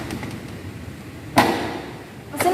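A Honda Beat FI motorcycle seat is shut with two sharp plastic thumps about a second apart, close by over a faint background hum.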